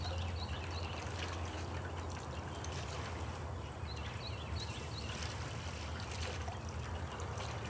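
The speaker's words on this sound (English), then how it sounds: "I can hear water leak." A steady, faint trickle of water leaking from a 55-gallon steel drum continues throughout, soft and constant with a light splashing texture and no voices.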